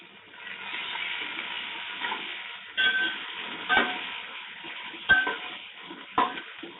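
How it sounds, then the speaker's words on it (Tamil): Mint leaves being stirred into biryani masala frying in oil for a wedding-style chicken biryani, a steady sizzle broken by a few sharp scrapes and knocks of the spoon against the pot, close and fairly loud, with no talking. "ஒரு 5 விரல் அடங்குற மாதிரி புதினா சேர்த்து நல்லா மிக்ஸ் பண்ணி விட்டுருவோம்"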